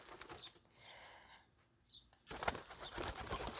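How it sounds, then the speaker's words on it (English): Caged pigeons, including a solid white one, flap their wings in bursts and coo softly; a flurry of loud close wingbeats takes over the second half. "These are my newer pigeons."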